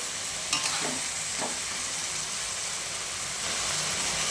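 Vegetables with capsicum, tomato and soy sauce stir-frying in a pan, a continuous close sizzle with a few scraping stirs early on, nobody talking.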